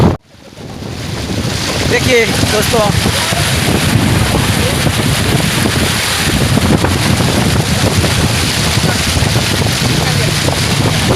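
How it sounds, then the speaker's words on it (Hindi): Floodwater rushing across a road cut through by a flood in Jharkhand or Bihar, a loud steady wash of churning water with wind buffeting the microphone, and someone talking over it throughout. "ये रोड पे जो पानी चल रहा है ना, ये रोड कट गया है पानी से, इसके कारण इतना पानी चल रहा है।"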